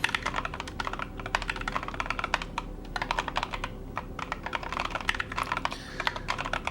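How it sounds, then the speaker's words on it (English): Rapid, steady keystrokes clatter on a computer keyboard in a quick continuous rhythm with brief pauses, close and clear, with no one talking. "I should probably do some monkey type, dude, and practice my typing"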